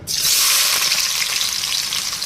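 Onions are dropped into heated oil for a potato curry, bursting into a sudden loud sizzle that stays strong and close for the full stretch.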